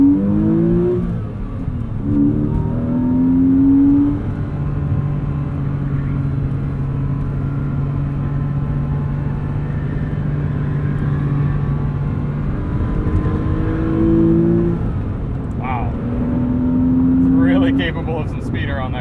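A 2001 Porsche Boxster S cruises at highway speed with a steady engine drone and road and wind roar, a brief rise in engine pitch mid-drive, and someone talking over it at times.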